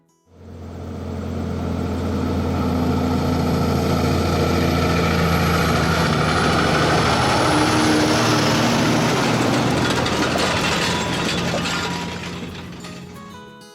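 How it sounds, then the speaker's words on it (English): A heavy Cummins X15 diesel engine in an International ProStar truck hauling 33 tonnes of wood drones steadily and loudly for several seconds, building up and then easing off toward the end, with a strong low hum throughout. "When an X15 is given something substantial to gnaw on, like 33 tonnes of wood, it emits a wonderful sound"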